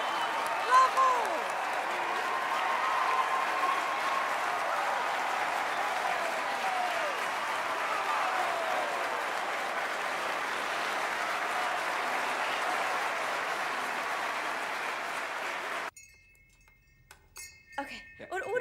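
Sustained applause and clapping from a large audience, a steady wash of many hands lasting about fifteen seconds before cutting off abruptly to quiet with faint clinks and voices.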